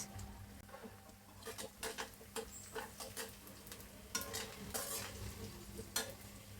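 Onion and green chilies frying in hot oil, a faint crackling sizzle broken by repeated light stirring scrapes and taps against the pan, no talking.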